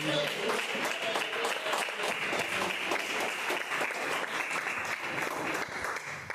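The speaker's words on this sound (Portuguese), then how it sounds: "As palmas que exaltam nosso Rei Jesus" A church congregation claps in praise of Jesus, a continuous wash of many hands at moderate distance, fairly quiet and even, with some speech faintly mixed in.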